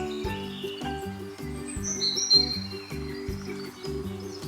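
A small bird chirping in high, bright calls over looping background music in a children's story about a bird and a farmer, faint and brief.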